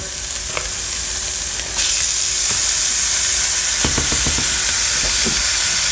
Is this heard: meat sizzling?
yes